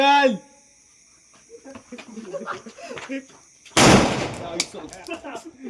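A Diwali firecracker blows up outdoors with a single loud, sharp bang and a crackling tail. Quiet voices and small noises come before the blast.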